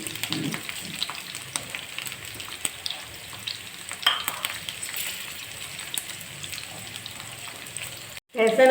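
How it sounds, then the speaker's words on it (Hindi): Garlic and green chillies fry in a pan for pulao, making a continuous close sizzle with crackles and occasional stirring scrapes, and the sound cuts out briefly near the end before a loud burst returns. "लहसुन और हरी मिर्चें ऑलमोस्ट फ्राई हो गए।"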